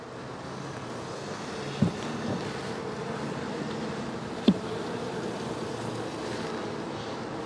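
Honeybees hum steadily in a dense, continuous swarm drone around an open hive frame crowded with larvae, with two brief sharp knocks of handling partway through and no speech.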